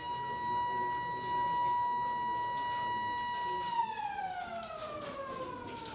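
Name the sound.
siren signalling exam start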